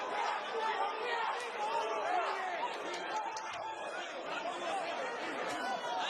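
Dense murmur of a boxing arena crowd in Las Vegas during a Pacquiao versus Ugas fight, many overlapping voices forming a steady, moderately loud wash of chatter with no single speaker standing out.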